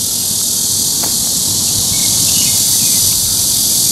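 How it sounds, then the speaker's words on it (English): A loud, continuous cicada drone, high and hissing, fills the air steadily without pause. "Damn cicadas."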